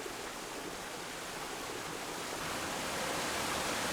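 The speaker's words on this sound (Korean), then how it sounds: "깊은 계곡에 흐르는 물소리가 시원스럽다." Water streams steadily down a deep valley in a dense evergreen forest at the Wando arboretum, a broad, continuous rushing wash that holds even and close throughout.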